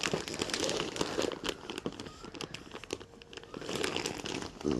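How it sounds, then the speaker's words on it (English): Sticker being peeled off a gift package, close crinkling and tearing of paper and packaging, steady and continuous, no talking. "or I could just take the sticker off"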